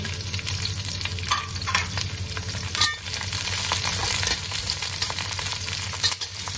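Onion, garlic and dry chili sautéing in a pan, a steady close sizzle broken by occasional stirring scrapes and clinks from a utensil.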